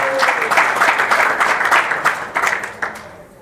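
Audience at a devotional kirtan gathering claps loudly and continuously for about three seconds before the applause tapers off.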